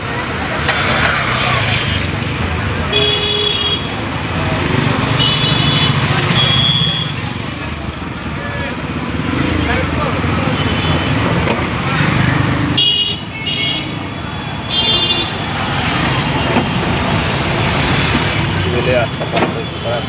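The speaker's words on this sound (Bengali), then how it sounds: "রাস্তা পার হওয়া যাচ্ছে না এরকম জাম করছে রাস্তায়" Busy jammed road with cars, trucks and motorcycles packed together, a steady dense traffic roar with scattered horn toots throughout, people talking nearby over the din.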